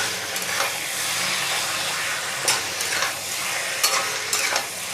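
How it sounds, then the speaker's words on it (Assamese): Marinated mutton is stirred in a pan over a high gas flame, a loud, steady sizzle broken by repeated scraping strokes of the spatula, with no voices. "এতিয়া অলপ সময় এনেকৈ ভাজি ল'ম"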